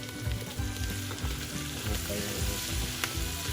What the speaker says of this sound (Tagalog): Ilalagay na natin yung ating blood.